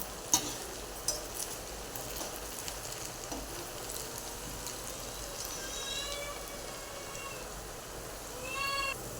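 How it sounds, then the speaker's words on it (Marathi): Potato fries deep-frying in hot oil for crispy French fries, a steady faint sizzle with a few sharp pops and crackles early on and a brief brighter burst near the end, with no talk. "याला आपण डीप फ्राय करूया ते पहा"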